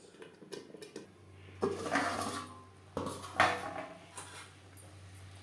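A lid goes onto a cooking pot of silver carp and green pea curry. Several metallic clanks and clatters come in separate bursts, close and fairly loud, over a steady low hum, and no one speaks.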